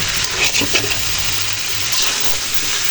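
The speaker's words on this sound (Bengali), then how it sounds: "একটু পর পর নেড়ে চেড়ে দিতে হবে যেন করার তলায় লেগে না যায়" Grass carp fish curry with broccoli is stirred in a pan, its sizzle and bubbling steady under a few scraping strokes of the spoon, with no talk.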